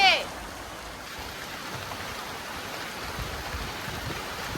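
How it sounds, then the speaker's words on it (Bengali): Steady rain falls outside a home kitchen, a continuous soft hiss of drops on surfaces, after a brief voice at the start. "দেখেন কি পরিমাণ বৃষ্টি পড়ছে আইরে বৃষ্টি নামছে"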